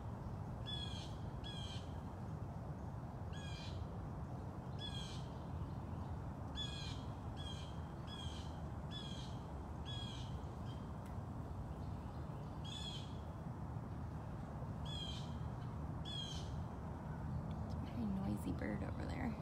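Repeated bird calls ring out at a wildlife sanctuary that also houses a rare leopard, sharp squawking bursts spaced every second or two over steady background noise and murmuring voices.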